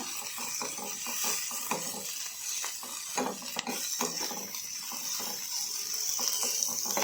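Egg curry ingredients sizzle steadily in a pan at home while a utensil scrapes and stirs them, producing close, continuous frying hiss broken by frequent light metallic knocks.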